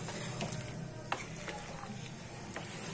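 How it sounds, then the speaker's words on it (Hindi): Chicken karahi gravy being stirred in a pot, a steady bubbling sizzle with a few soft scrapes and clinks of the spoon against the metal, heard alone without voices. "तो अब इसको हम मिक्स कर लेंगे अच्छे से और गलने के लिए ढक देंगे।"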